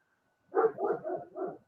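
A dog barks four times in quick succession, close and fairly loud against an otherwise silent background.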